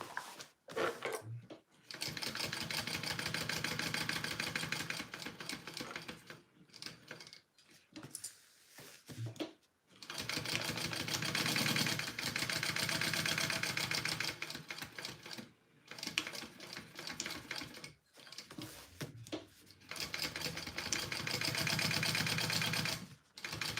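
A sewing machine stitches a Zynah bag from Kaur Threads in long, fast, rattling bursts separated by short pauses, close and loud.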